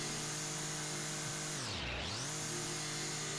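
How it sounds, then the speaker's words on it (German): Lawnmower in the game House Flipper, a steady, loud mechanical engine drone that dips in pitch once and then recovers, heard close with no talking. "Da hat der Rasenmäher so ein bisschen seine Probleme bei den ganzen"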